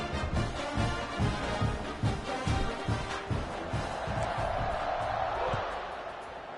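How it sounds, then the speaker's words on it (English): A stadium crowd in a college football video game, SMU against Baylor, roaring and cheering with rhythmic stomping or clapping beats, swelling into a broad din while a commentator talks over it. "this crowd is feeling themselves after that last drive"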